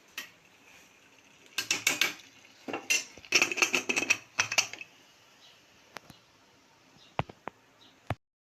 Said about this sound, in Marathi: आता आपण 5-10 मिनटं कुकरचं झाकण लावून घेऊ